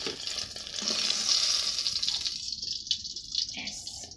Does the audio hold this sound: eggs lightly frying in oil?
yes